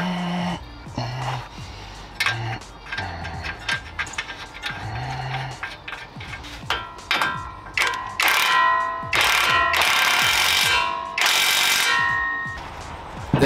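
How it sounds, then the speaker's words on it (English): Ratchet tightening an outer tie rod into the spindle of a Ford Bronco, giving repeated metallic clicks in short bursts with occasional clanks of tools and parts, close by and with no talk. "Place the outer tie rod in the spindle and tighten."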